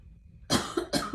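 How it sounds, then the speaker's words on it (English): A few sharp coughs close by, in a quick burst after a quiet start, with brief pauses between them. "it's bad enough to be coughing on video"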